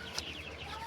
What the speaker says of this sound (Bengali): এই ঘরে যে আমার কিছু লাল মুরগি আছে